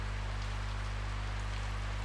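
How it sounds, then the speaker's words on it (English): Heavy rain falls steadily in a hunting game's outdoor setting, a continuous even hiss with no breaks, faint and unchanging throughout, with a low hum beneath and no one speaking. "in my area it's like raining heavy"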